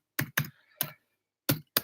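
A handful of isolated keystrokes on a computer keyboard, five sharp close clicks spaced unevenly with silence between them.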